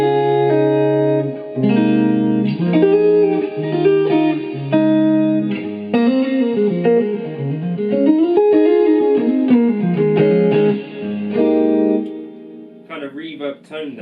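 Electric guitar played through a Suhr amplifier with deep reverb turned all the way up, a bright, sustained melodic phrase ringing with long washy tails, loud and close, alone without talk.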